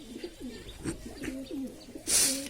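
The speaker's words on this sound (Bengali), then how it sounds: "দেখে নিন রুটি দিয়েছি, এরা কি সুন্দর খেয়ে নিচ্ছে, সব কবুতর খাচ্ছে" Pigeons cooing while pecking at bread, a series of soft low throaty coos repeating close by, followed by a brief rustle or flutter.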